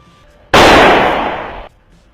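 A large firecracker goes off in one sudden loud burst, followed by a roaring crackle that holds for about a second before cutting off, with quiet before and after.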